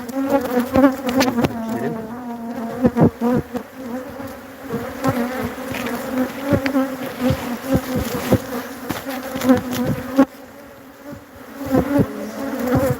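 Honeybees buzz around an opened hive during an inspection, a dense droning swarm hum with individual bees zipping close past, continuous and fairly loud throughout with no talk.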